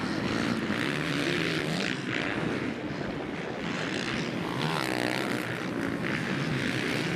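Husqvarna off-road motorcycles race in the desert at Primm, Nevada, producing a steady, windy engine drone with a bike passing partway through, and no talking.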